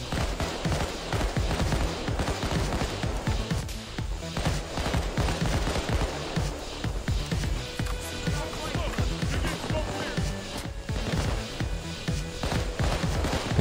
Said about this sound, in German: Von wo schießen die denn überall?